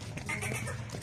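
A large desi-breed goat in a rural pen gives a close, fairly loud nasal bleat over about a second, with busy background noise around it.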